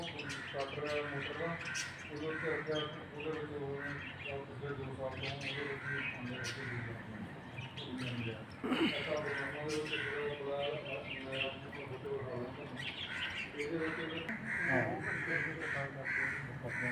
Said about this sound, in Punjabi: ਸੋ ਦੇਖੋ ਪੰਛੀਆਂ ਦਾ ਪ੍ਰੇਮ